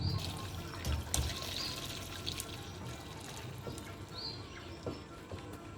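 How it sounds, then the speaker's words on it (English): Beef broth poured through a strainer in a home kitchen, a steady watery trickle and splash with occasional drips, fairly faint and without talk. "Right now we need to separate the broth from the meat, so we have to strain them over a strainer."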